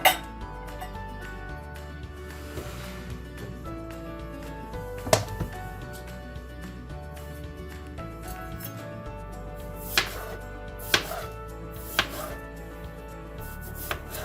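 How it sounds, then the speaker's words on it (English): Occasional sharp knife taps on a cutting board while chopping red potatoes, a handful of distinct chops spaced over a quiet kitchen background, no talking. "Let's get started by chopping our potatoes."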